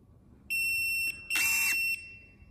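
Two sharp electronic beeps from BlueBird PS 22 32 electric pruning shears while adjusting blade opening, each lasting about half a second with a short gap between, clear and close with no talking.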